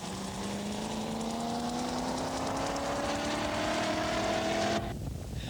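A rally car at the 1984 Dubai International Rally struggles past with a blown turbocharger. The strained engine drones steadily with its pitch slowly climbing, then cuts away abruptly near the end.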